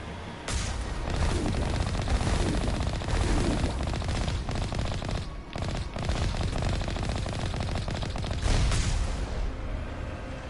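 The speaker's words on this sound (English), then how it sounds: "Something shooting at us. Heavy turret." A heavy turret in Mass Effect Legendary Edition fires at the player in dense, loud bursts of gunfire, with brief pauses breaking the barrage throughout.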